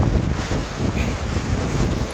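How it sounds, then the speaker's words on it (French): Strong wind roars and buffets a microphone in uneven gusts during a gravel bike race, a dense rumbling rush with no voices. "il y a vraiment des coups de rafale"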